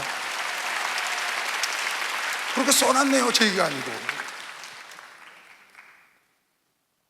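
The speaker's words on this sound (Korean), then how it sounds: "빨리 박수하면 돼" Congregation applauding in a church during a Wednesday worship sermon, a broad steady wash of clapping that fades out toward the end, with a voice speaking over it midway.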